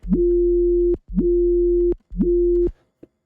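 A Serum synth screamer bass with all post-processing switched off plays three loud, sustained, buzzy resonant notes, each with a quick upward pitch scoop at the start and a clean cutoff, with no talking.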